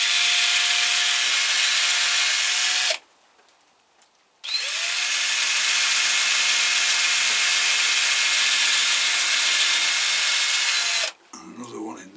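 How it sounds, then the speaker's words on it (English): A power drill runs in two long steady bursts with a short pause between, close and loud, while mounting a Cattleya dowiana orchid. "I'll just have to put another drill in there."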